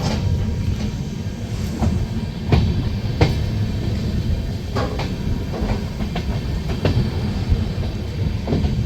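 The new LHB coaches of the Tebhaga Express from Balurghat to Kolkata rumble steadily along the track, with sharp rail clicks and knocks breaking through the constant roar.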